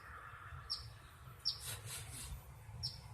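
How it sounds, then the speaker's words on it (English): Baby birds in a nest give faint, high cheeps, three or four short chirps spaced about a second apart over a low, quiet background hum. "can you hear the cheep, cheep, cheep, cheep, cheep kind of sound?"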